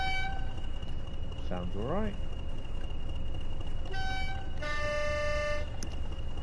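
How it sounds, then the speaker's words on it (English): Train air horn in Train Sim World 4, sounding a long steady multi-tone blast near the end after a shorter toot, with a speaking voice and a brief rising whistle-like tone earlier over steady cab rumble. "And we are testing the air horn."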